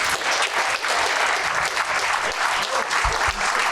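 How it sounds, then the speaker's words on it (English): An audience at a local Republican committee candidates night applauds in a room, loud sustained clapping close by with a few louder, thumping claps near the end. "are you applauding that it's over with, or that they said something wise?"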